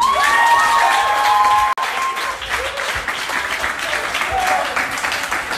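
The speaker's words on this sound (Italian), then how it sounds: "non è bello applaudire con così tanto entusiasmo a questa notizia" Stand-up comedy audience applauding, with steady enthusiastic clapping and some cheering that fills the room for several seconds while a voice speaks over it.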